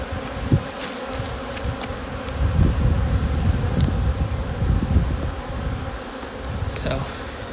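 Honeybees robbing a hive box give a dense, continuous buzz close by, with individual bees droning past over a steady swarm hum.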